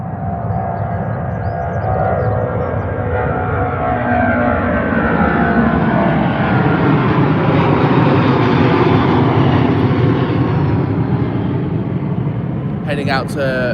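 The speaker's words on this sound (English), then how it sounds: "now hope we're going to get to see the British Airways heading out to Los Angeles" A British Airways jet departs Heathrow for Los Angeles, its engines producing a loud, sustained roar that swells and shifts in pitch as the aircraft passes, with a short crackle at the very end.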